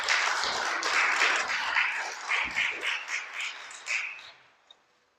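Audience applause with dense, overlapping clapping that holds steady, then breaks into scattered claps and fades to silence near the end.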